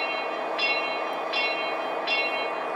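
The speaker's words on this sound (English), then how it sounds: "as you can hear the engine running" Model train locomotive engine sound from a Bluerail board app, a steady mechanical hum with three evenly spaced bright clicks or chimes about once a second.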